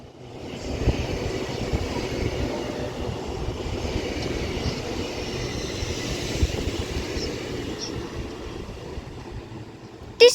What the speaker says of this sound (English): also now departing is the 1347 Avanti West Coast service to London Euston with 805003